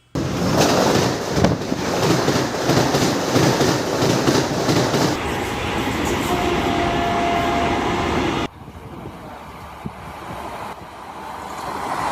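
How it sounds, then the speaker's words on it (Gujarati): A sleeper Vande Bharat train on a trial run rushes past at 130 km/h with a loud roar and rhythmic clatter of wheels, then the noise drops off abruptly to a quieter rumble and wind. "એકસો ત્રીસની સ્પીડે સ્લીપર વંદે ભારત ટ્રેન નીકળી હતી"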